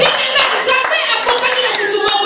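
A church congregation claps in quick, steady rhythm, loud and close. Many hands strike together in dense, repeated bursts, and voices can be heard faintly underneath.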